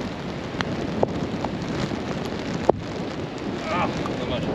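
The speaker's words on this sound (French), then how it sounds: "et là il pleut" Rain falling on an open golf course during a storm, a steady diffuse patter mixed with gusty wind buffeting the microphone, with a few sharp drop impacts standing out.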